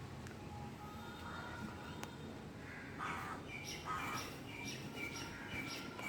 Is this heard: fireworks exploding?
no